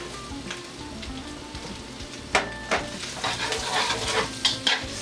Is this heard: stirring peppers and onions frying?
yes